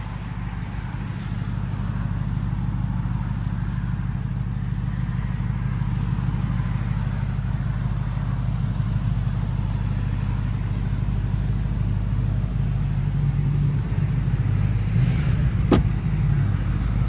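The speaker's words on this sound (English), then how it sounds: "4-liter twin turbo V8." A Porsche Panamera GTS 2020 with a 4-liter twin-turbo V8 on cold start, settling into a steady, deep, loud idle rumble that holds throughout without talk.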